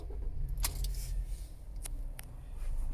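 Keys for a Toyota Auris Icon 1.2T jangle in a few bright metallic bursts over a low, steady rumble, close to the microphone.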